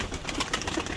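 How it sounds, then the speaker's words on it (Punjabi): Fancy pigeons kept by a breeder coo softly, a faint, low, murmuring sound over steady background noise. "ਇਹ ਦੇਖੋ ਹੁਣ ਕਬੂਤਰ, ਇਹ ਦੇਖੋ ਸ਼ਾਨ ਦਾ ਕਬੂਤਰ"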